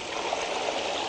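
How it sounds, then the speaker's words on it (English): Water gushes from a reservoir onto an undershot waterwheel model, a steady, dense rushing stream that holds evenly loud and close throughout with no voices. "the water gushes out of here"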